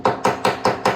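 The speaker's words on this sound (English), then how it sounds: "tap with the hammer" Five sharp hammer taps strike the metal-clad corners of a timber beehive nuc roof, evenly spaced and close, each a bright ringing knock that fades quickly before the next.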